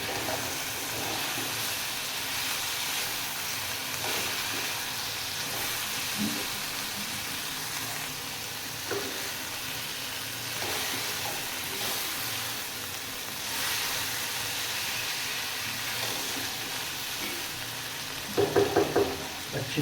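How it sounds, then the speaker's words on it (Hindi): Pieces of boiled chicken feet fry in oily masala in a Pakistani desi kitchen, giving a constant, dense sizzle close by, with occasional stirring knocks and a brief clatter near the end, and no talking. "अब इसमें ऐड करेंगे जो बॉयल किए थे हमने पंजे, उसके पीस ऐड करेंगे और इसको अच्छी तरह से भून लेंगे।"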